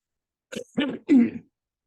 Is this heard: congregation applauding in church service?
no